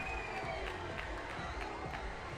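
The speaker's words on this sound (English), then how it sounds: "the crowd will cheer that" Crowd noise at a Lexington SC vs One Knoxville SC soccer match, a faint, distant, steady wash of cheering from the stands after a shot goes around the back of the net.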